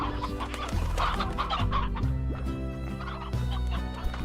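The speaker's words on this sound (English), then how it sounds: "Looks pretty messy, chickens everywhere" Chickens cluck and gobble in a busy chorus on a ranch in the Slime Rancher video game, overlapping calls repeating continuously and fairly loud, with no talk.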